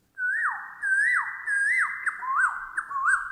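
A human voice imitates the call of a woodpecker that calls in big banyan trees, giving a series of about six loud, clear whistled notes, each rising then swooping down, repeated in a steady rhythm.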